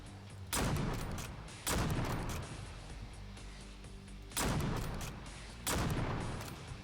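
Winchester Model 1895 lever-action rifle shots in Fallout 4, four loud separate booming reports spaced about a second or more apart, each followed by a decaying echo.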